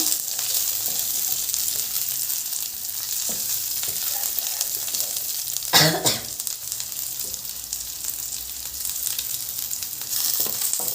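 Curry leaves fry in hot oil for a prawn curry, a continuous bright sizzle and crackle with occasional stirring scrapes and one louder burst midway, close and steady throughout.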